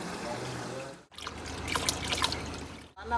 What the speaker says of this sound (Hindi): पानी उबल रहा है